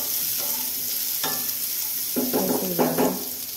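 Onions frying in a pan for green mango chutney, a continuous close sizzle broken by scraping and clattering stirring strokes from a spoon against the pan.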